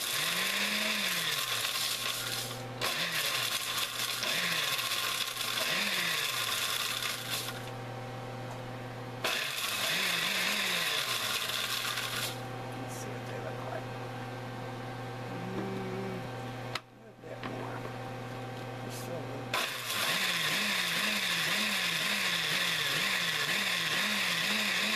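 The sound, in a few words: electric grinder mincing dried onions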